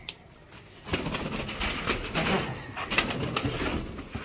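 Naqab posh (masked) pigeons settling into a new home give soft repeated coos alongside light wing flutters and rustling, close by and fairly steady throughout.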